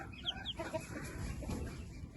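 Faint, high peeping and soft clucks from small chicks, a few brief calls early on over a low, noisy background.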